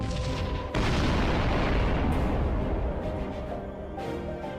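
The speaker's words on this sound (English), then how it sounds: "I'm firing my laser." A laser weapon firing in the space combat game Sunrider: Mask of Arcadius, a loud roaring blast that bursts in after a brief lead-in and sustains a dense, rumbling wash for several seconds before tailing off.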